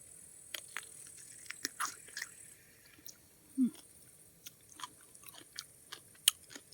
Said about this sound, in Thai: แตกต่างกันเดี๋ยวจะกัดให้ดูเด้ออันนี้เด้อ